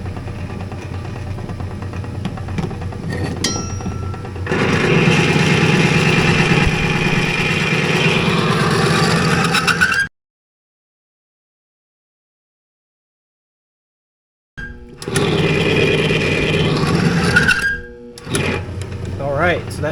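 A lubricity test machine runs with oil mixed with Bestline Racing additive, giving a steady mechanical whirr with a faint whine, loud and continuous, cutting out for several seconds before starting again.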